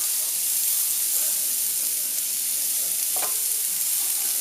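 Onions, chilli and mushrooms fry in a paella pan, giving a steady, even sizzle at moderate level with a brief soft clatter near the end and no talking.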